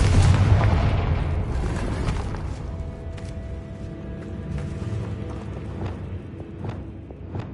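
A Confringo blasting spell detonates in a tomb in Hogwarts Legacy: one loud, close boom at the start, then a long, rumbling decay with scattered faint clicks and echoes.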